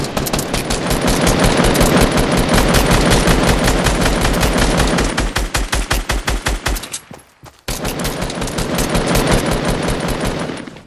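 Rapid automatic gunfire from a weapon in Fortnite, a dense, loud stream of shots lasting several seconds, breaking off briefly with a short gap, then resuming at full intensity.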